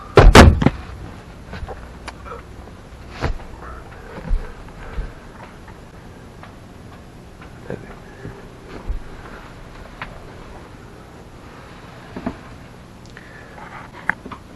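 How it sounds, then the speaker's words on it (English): A cabin door aboard a Valiant 50 sailing yacht bangs shut loudly at the start, followed by scattered lighter knocks and creaks from the interior, close by, with no talking. "So this door obviously closes, create privacy for the master stateroom forward"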